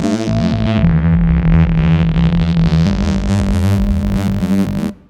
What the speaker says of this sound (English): This one is called the Singing Tree.